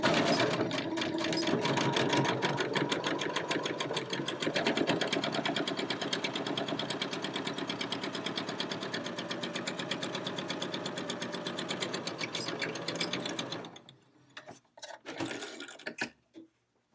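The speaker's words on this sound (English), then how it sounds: "then sew the second part of the seam" A sewing machine with a presser foot stitches a seam in a fast, steady mechanical whir of rapid needle strokes for about thirteen seconds, then stops with a few short bursts and clicks.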